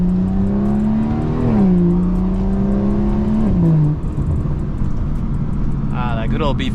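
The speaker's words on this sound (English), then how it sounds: "Ah, that good old B58 sound, man. You cannot make a B58 sound bad." A BMW B58 inline-six engine revs hard under acceleration, its loud rising drone climbing and easing back twice over a steady road roar, with a voice briefly speaking near the end.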